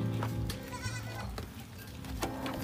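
Small goats on a backyard farm bleat several times in quick succession, close by, with one louder cry near the end over low background noise.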